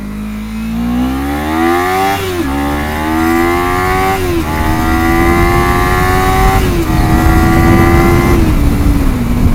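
A Kawasaki Ninja 300 motorcycle accelerates up to speed, its engine pitch rising in steady climbs and dropping briefly at each of several gear shifts, loud and close with wind rushing underneath.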